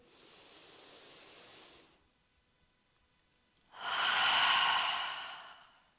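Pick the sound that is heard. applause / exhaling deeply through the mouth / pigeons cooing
exhaling deeply through the mouth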